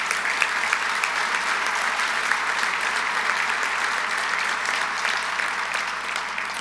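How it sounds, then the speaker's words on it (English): Audience applause at a county conference opening ceremony, a dense, even wash of many hands clapping that holds steady throughout and eases off slightly at the end. "But please, let's give them a round of applause."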